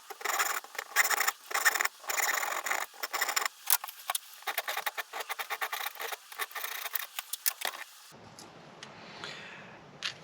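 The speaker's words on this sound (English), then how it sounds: "Trim off the sides to give it some style, round off the corners, and then file out the notch." Hand file rasping a notch into an aluminium mountain bike mudguard bracket clamped in a vise, a rapid run of close, scratchy strokes with brief pauses that stop abruptly near the end, leaving a faint room hush.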